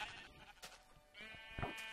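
A sheep bleats in Minecraft on the Xbox 360, two short, fairly faint bleats spaced about a second apart against a quiet game background.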